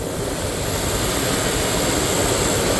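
The engine of a 1999 Dodge Durango SLT, revived after sitting abandoned for 14 years, running at a high speed with the throttle open: a loud, steady, close roar with no talk.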